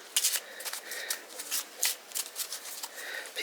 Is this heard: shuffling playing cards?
yes